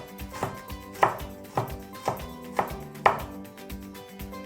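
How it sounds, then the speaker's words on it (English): Garlic finely sliced with a knife on a cutting board: a series of crisp, evenly spaced knife taps close up, about two per second, clean and alone with no talking. "I will be finely slicing the garlic as well"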